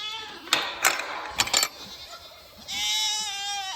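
Goats in a homestead pen bleating, a wavering cry rising near the end, preceded by clanks and rattles of gate and fence handling.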